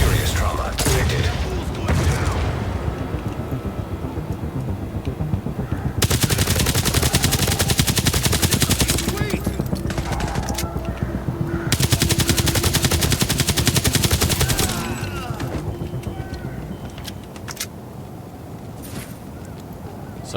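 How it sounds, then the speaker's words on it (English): Gunfire and explosions in the mobile shooter The Division Resurgence played on PC: long stretches of loud automatic fire with booming blasts, broken by quieter gaps, with game voice lines heard over the action. "Let's get some explosions going."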